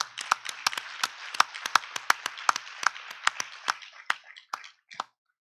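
An audience applauds at a Green Climate Fund tenth-anniversary event in Korea, with a steady patter of many hands that thins out and fades near the end, free of any talk.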